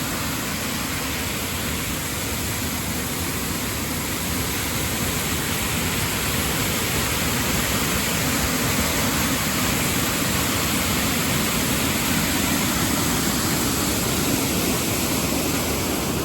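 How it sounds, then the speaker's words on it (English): The roar of Snow Creek Falls is heard from up close. It is a loud, steady, broadband rush of falling water that never lets up and has no voices over it. "came over here to the middle of the waterfall"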